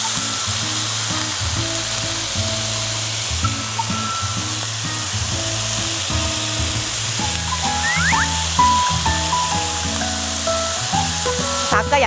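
Marinated meat sizzling loudly as it grills, a dense continuous crackle and hiss close by, with a few low voices murmuring underneath.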